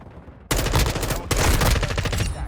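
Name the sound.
gunfire from an M4A1 rifle in the video game Modern Warfare 2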